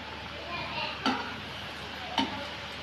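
Small pieces of namak para dough fry in hot oil with a soft, even hiss, broken by two brief clinks; faint and close, with no talking.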